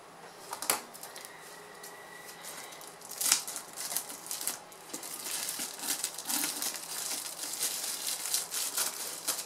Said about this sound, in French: on va découper donc le surplus d'isolant que l'on a tout le tour